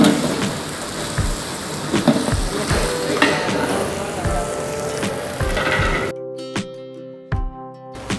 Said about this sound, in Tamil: கொஞ்சோண்டு கேரட்டு பீன்ஸு பட்டாணி எல்லாம் போட்டு நல்லா வதக்கிடணும் எண்ணெயிலே.